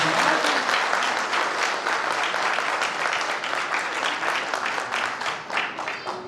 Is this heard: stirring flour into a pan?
no